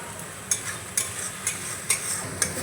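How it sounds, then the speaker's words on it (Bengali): A paste of nuts, poppy seeds and chili sizzles in a pan while a utensil strikes the pan in sharp taps about every half second, five times in all, over a steady close hiss. "এবার এই মশলাটাকে আমি ভালো করে কষিয়ে নেব।"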